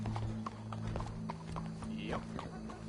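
In Red Dead Redemption 2, a horse's hooves clop in an uneven walking rhythm over a droning background hum, with a short neigh rising near the end.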